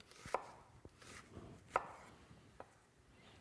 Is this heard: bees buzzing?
no